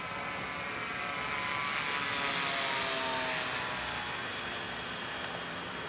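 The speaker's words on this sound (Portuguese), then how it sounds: "Parece que faz fazendo barulho de avião Globo. Mas sabe o que é? É a vibração do spinner torto." A model airplane engine buzzes continuously with a bent spinner, its vibration giving a loud, droning whine like a full-size aircraft, steady and close throughout with no talking.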